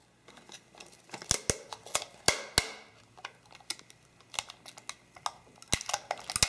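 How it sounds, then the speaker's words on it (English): Packing tape is pulled and pressed onto a Halloween gift basket, with sharp irregular crackles, snaps and rips of tape at close range, quiet gaps between the bursts. "Using my packing tape, I'm now going to tuck the sides underneath the bottom and tape them securely."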